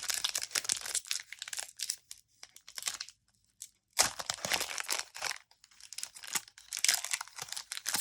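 Foil wrapper of an Edge of Eternities trading card booster pack being torn open and crumpled, with close, sharp crinkling bursts that pause briefly midway before resuming.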